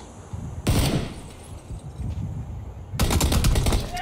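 Gunfire in PUBG: a burst of automatic rifle shots, then scattered quieter pops, then another sustained loud rapid burst of fire, with no voices.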